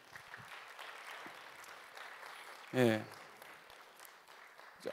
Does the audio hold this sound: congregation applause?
yes